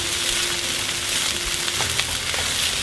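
Sisig sears and sizzles loudly in a hot pan, a dense, steady crackle of frying meat holding constant throughout with a few sharper pops and no talking.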